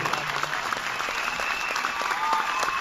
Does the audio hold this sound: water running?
no